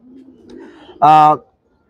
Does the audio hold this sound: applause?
no